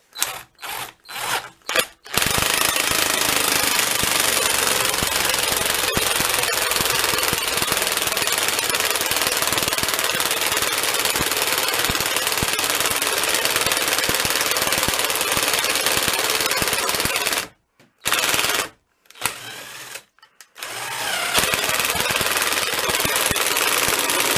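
A battery-powered tool hammers hard at a bolt with a nut and washer fitted, a loud, continuous rattling impact that runs for about fifteen seconds after a few short bursts, then stops and starts in brief stuttering pulses near the end.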